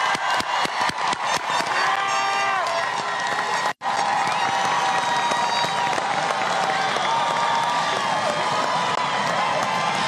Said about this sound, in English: Let's have a round of applause for our graduates.